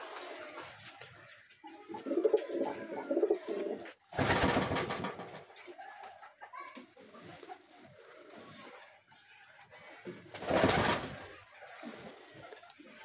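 Pigeons coo at a rooftop feeding spot beside a mulberry tree, low repeated murmurs at moderate distance, broken by two loud bursts of noise, likely wing flapping.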